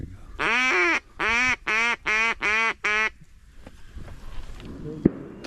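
Six loud, evenly spaced nasal quacks, like a duck call, ring out close during a duck hunt over decoys, then fade to quiet outdoor rustling with a single sharp knock near the end.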